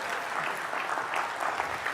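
A crowd gives a speaker named Louis a round of applause at a conference talk, the clapping full and sustained throughout, with faint voices murmuring underneath.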